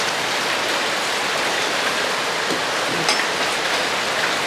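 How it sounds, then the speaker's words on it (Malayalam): Steady, heavy rain pours down in a constant hiss, with a few louder drips, no voices. "നല്ല മഴ വരുന്നു അല്ലേ മഴ വരുന്നല്ലോ മഴ പെയ്തോണ്ടിരിക്കുക"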